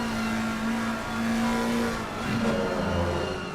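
Race cars in Assetto Corsa Competizione at Imola run in a close pack, several engines droning loudly together with a steady tone that rises and shifts as the cars pass; no voices.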